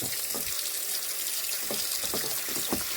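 Bleach and water poured into a plate during an egg cleansing ritual, a steady close splashing, gushing flow of liquid with faint clinks, no talking.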